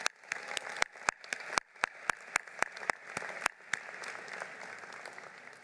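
Applause at a university commencement ceremony, a crowd's steady clapping with loud, distinct claps from someone nearby cracking out rhythmically over the wash for the first few seconds.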